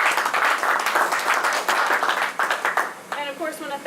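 An audience claps at a golf senior open awards ceremony, a dense, steady round of applause close by that thins out toward the end as a voice begins speaking.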